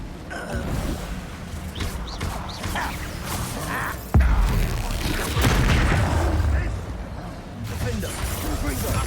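Confringo spell blasts in Hogwarts Legacy boom out repeatedly amid a chaotic fight, with whooshing bursts and one sharp, heavy impact partway through, while voices talk over the combat.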